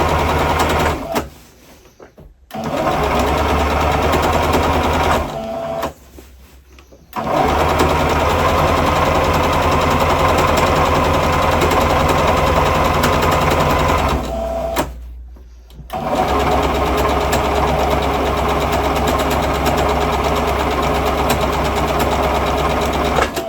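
A sewing machine runs straight, unbacktacked rows of gathering stitches through fabric, a loud steady whirring in three long bursts separated by brief pauses, with no talking.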